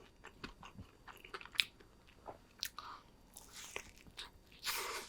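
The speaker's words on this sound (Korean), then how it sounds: "바삭바삭거리는 게 있어." Quiet, close-up crunching and biting as someone chews a crisp pistachio Dubai chocolate dessert, with scattered sharp crackles and no talking.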